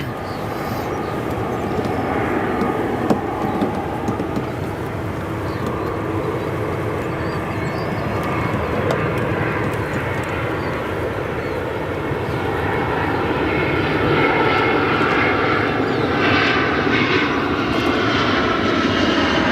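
A 23-year-old Boeing 767 jet at O'Hare airport gives off a continuous, moderately loud engine roar that swells slightly in the second half, with no voices over it.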